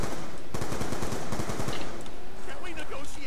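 Rapid automatic gunfire against zombies in Black Ops 2 Zombies on the Buried map, a dense burst of shots followed by a louder wave of chatter and game effects near the end.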